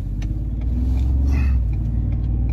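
A truck drives along with a steady, loud engine rumble, close by and continuous, with a slight rise in engine pitch partway through.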